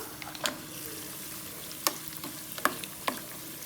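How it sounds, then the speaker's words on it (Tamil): A soft, steady sizzle of cashews and raisins frying in hot ghee, with occasional sharp pops and crackles and light stirring. "முந்திரி நல்லா கலர் சேஞ்ச் ஆகிற வரைக்கும் வறுத்தெடுத்துக்கலாம்"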